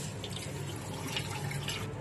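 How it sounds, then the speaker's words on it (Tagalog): Half a kilo of mung beans being washed in water for hopia filling, a close sloshing and trickling of water with light drips and swirls, continuous for about two seconds. "Hugasan natin mabuti."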